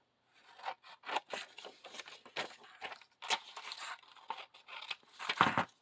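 Scissors cut through scrap paper in a run of close, distinct snips and crisp rustles, irregularly spaced, each cut a short sharp crunch of paper.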